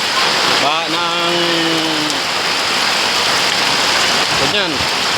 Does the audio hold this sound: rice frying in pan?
no